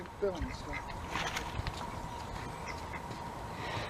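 Pet ducks, one named Nibbles, give a few short quacks close by amid light outdoor noise, with a person talking over them.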